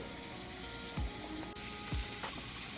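Onion, garlic and ginger paste sizzle steadily in a pan while being fried, with a constant close hiss and a few scraping stirs of a spoon.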